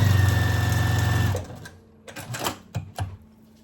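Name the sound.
sewing machine stitching quilt scraps together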